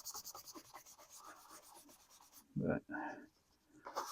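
A leather knife sheath is scrubbed with soapy lather in short, rhythmic rubbing strokes, close and fairly quiet, followed by a few louder scrapes near the end while a voice speaks briefly.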